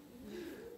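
Homing pigeons coo softly in a brief, low, throaty burst, faint and close with no other sounds.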